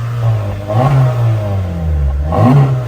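Stock exhaust on a Honda City GN revving repeatedly toward 4,000 RPM in a shop, loud and close, with the engine note rising and falling in a couple of surges.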